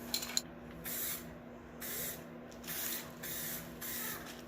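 Base coat sprayed from a paint gun onto a car's front lip comes as a steady series of close hissing passes, each about a second long with brief pauses between strokes, over a low background hum.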